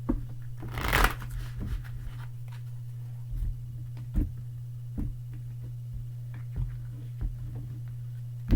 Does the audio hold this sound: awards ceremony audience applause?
no